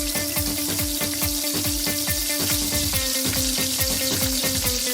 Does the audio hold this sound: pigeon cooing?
no